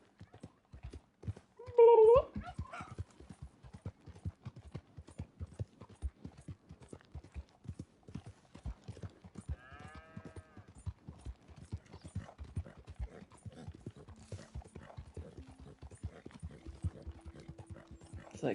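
A horse in Red Dead Redemption II gallops with sharp, evenly spaced hoofbeats that run through the whole stretch, a brief whinny or animal call near the start, and talking heard over it.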